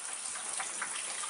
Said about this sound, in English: it's raining right now, it's storming